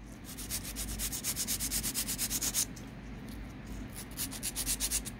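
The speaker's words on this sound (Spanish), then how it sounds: "aquí ya se secó y le vamos a estar limando" A nail file is worked back and forth across the edges of an artificial fingernail, giving soft, rhythmic scratchy strokes close by that pause briefly midway and then continue, with no speech.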